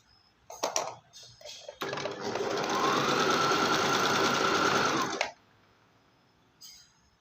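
A sewing machine stitching a green frill onto cloth runs in one steady, loud burst of about three and a half seconds, with a few handling clicks before and after.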